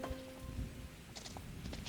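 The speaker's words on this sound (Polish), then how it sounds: "zaczął padać deszcz" Rain beginning to fall in a horse-riding video game, a soft patter of drops with faint crackles in the brief stretch, no talk.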